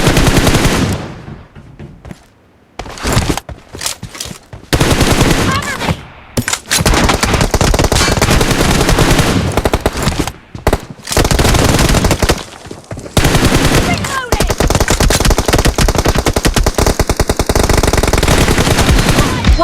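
Loud, dense bursts of automatic gunfire from the PUBG/BGMI video game, coming in long rapid volleys broken by a few short silent gaps, with no voices over them.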